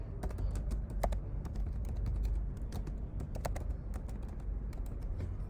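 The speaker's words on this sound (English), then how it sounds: "I'm going to type laptop here" Rapid, uneven keystrokes on a computer keyboard as the word laptop is entered into a shipping form, clicks clustered in short bursts over a low steady room hum, close and fairly quiet.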